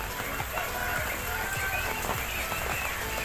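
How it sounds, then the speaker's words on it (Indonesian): Rain falling over a covered quail farm cage, a steady wash of patter with scattered sharper drops and knocks, moderately loud and continuous for the few seconds. "ini posisi hujan."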